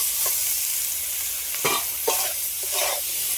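Fried potato and steamed cauliflower with turmeric being stirred in a hot pan: a constant close sizzle broken by several sharp spatula scrapes.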